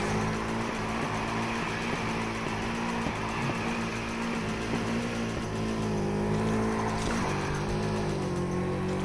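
A Nissan Skyline drift car in a video game drones steadily at high revs with tire noise, loud and unbroken throughout.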